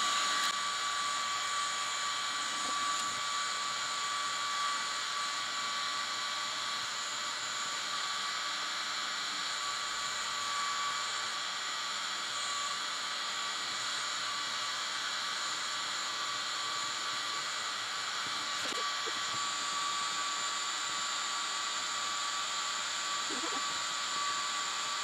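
A cordless Oneisall pet grooming clipper runs with a steady, even buzz that holds unbroken and fairly close throughout. It is used on a mini goldendoodle, and no voices are heard.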